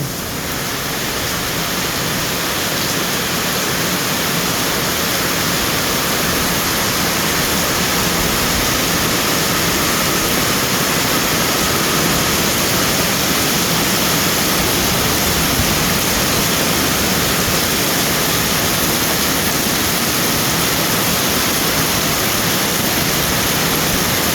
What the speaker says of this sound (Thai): น้ำไหลทีบเลย